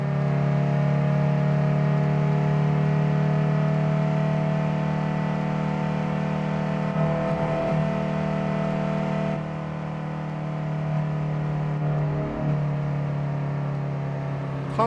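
Tofaş car engine idling and pulling at low revs in Euro Truck Simulator 2, a steady loud droning hum with strong low harmonics that runs throughout and dips slightly midway.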